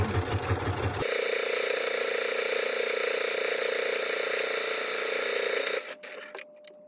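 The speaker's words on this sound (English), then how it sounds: "Now I use a walking foot so that vinyl doesn't stick to itself and it feeds evenly" A sewing machine with a walking foot stitches around a small vinyl circle for a micro bag keychain, its motor holding a steady, close mechanical whir for several seconds before stopping, followed by a few faint handling clicks.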